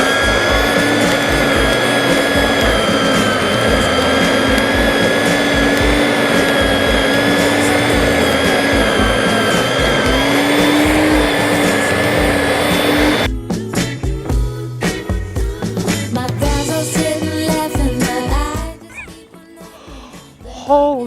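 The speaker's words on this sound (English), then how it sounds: "So let's get this vacuum started and go for it." A loud lawn vacuum roars and whines steadily for a long stretch while pulling dead grass from a scalped kikuyu lawn, then its tone breaks up and fluctuates before cutting off near the end.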